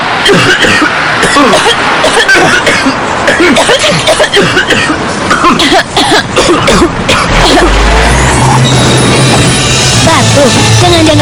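Dense, overlapping coughing fills a cough medicine advert, many loud coughs and throat-clearing sounds piling up one after another before a low thump near the end.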